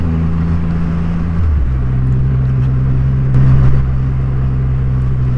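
Triumph Rocket 3R motorcycle ridden along narrow, twisty, bumpy back lanes in Lancashire, its big engine holding a steady low drone with a gear change partway through and a slight swell of revs near the end, heard close without talk.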